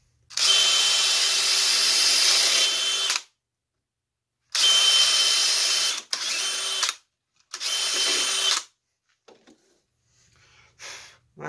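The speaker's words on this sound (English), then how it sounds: "And I've got the tapered drill bit" Tapered drill bit boring holes in wood, several loud close bursts of a power drill whirring in runs of about three seconds and shorter, with quiet gaps between them. Faint handling noises follow, and no one speaks.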